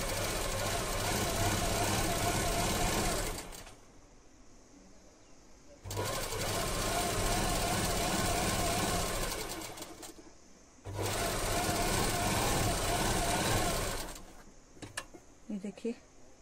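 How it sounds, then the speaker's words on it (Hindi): Sewing machine stitching multicoloured fabric strips together for a homemade handbag, running in three long loud bursts separated by quieter pauses, with someone speaking during the gaps. "अब मैं इसमें सिलाई लगाऊंगी"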